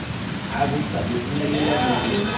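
Heavy rain pours over a flooded Hyderabad street, a steady broadband hiss and patter that runs through the whole stretch while people talk over it.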